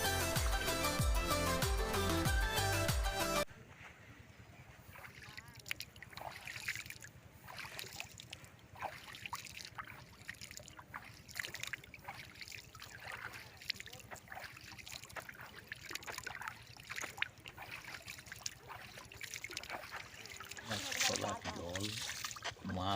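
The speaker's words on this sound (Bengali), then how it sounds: "ছোটোখাটো নৌকাও যাচ্ছে, মাঝি ভাইরা খুব সুন্দর আস্তে আস্তে চালিয়ে নিয়ে যাচ্ছেন" Small rowboats moving slowly along a river, faint water trickling and light splashing with soft, irregular knocks, heard near and low beneath voices talking, after a few seconds of music.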